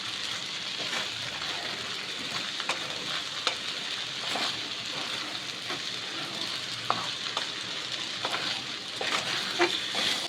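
Sago upma being stirred and mixed in a pan, a continuous soft sizzle with scattered scraping clicks from a spoon against the pan, close and moderately quiet.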